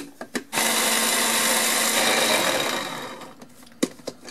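A food processor purees onion in one loud, steady whirring burst lasting about three seconds, with a few clicks and handling knocks before and after.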